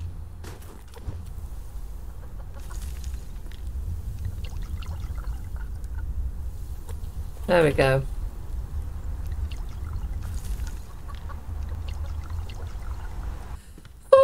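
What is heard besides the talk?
water being poured for chickens in video game Subsistence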